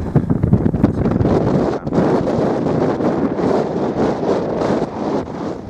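Strong wind on the sand dunes at Harlech beach buffets the microphone with a loud, continuous roaring rumble and gusty surges, with no other sounds cutting through.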